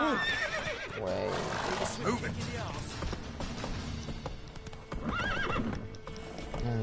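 Hooves pound steadily as Roach gallops in The Witcher 3, with clear neighs and whinnies near the start and again toward the end, all mixed with game ambience and a speaking voice.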